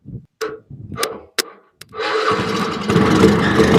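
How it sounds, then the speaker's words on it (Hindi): A homemade rocket bike built from trash starts up: several short sharp clicks and pops, then a sudden continuous roaring hiss that grows stronger and stays loud to the end. "तो अपनी रॉकेट है वो स्टार्ट हो चुकी है।"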